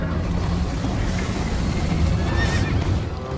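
Horse neighing and whinnying with a clip-clop of hooves in the Minecraft Story Mode video game, a loud continuous whinny over a busy steady game soundtrack, with no one talking.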